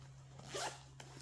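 A zipper runs along the pocket of a handbag lined in paisley print: one quick, close zip with a brief rasp, then a faint click, over a steady low hum.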